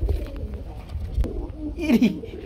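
Pigeons coo in low, throaty bursts close by at a pigeon sale, with a faint voice in the background.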